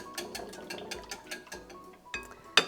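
French toast batter is whisked in a bowl, giving quick, rhythmic clicking strokes, quiet and close, ending with a sharper metallic clank. No one speaks.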